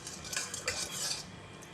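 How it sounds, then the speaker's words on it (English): A utensil stirs seasoning into a seafood soup with luffa gourd and prawn broth in a pot, giving light metallic clinks and scrapes against the pot over a soft background, close and quiet. "Give it a mix until the seasoning dissolves."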